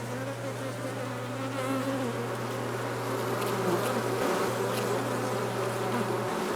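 Honey bees buzz steadily around a tree housing a wild colony, a dense, continuous drone heard close by over several seconds, with a faint background hum and no talking.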